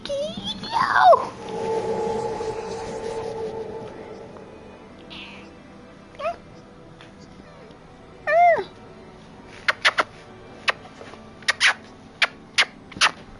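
A house cat meows in a few short calls near the start and middle, followed by a series of brief sharp clicks or taps, with a person talking over and between the calls.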